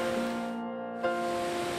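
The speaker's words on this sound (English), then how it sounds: "This is where the mighty Athabasca River shows some of its true power, the magnificent Athabasca Falls." Athabasca Falls on the Athabasca River during heavy spring runoff roars with steady, dense rushing water, a constant powerful wash with no pauses and no voices.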